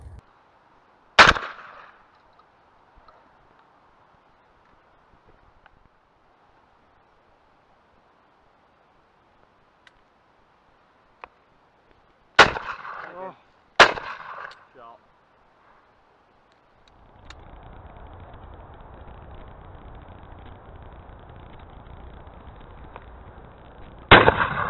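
Shotgun blasts while shooting crows on a grass field: a single sharp report, then two close reports in quick succession, with a later rushing, wind-like noise.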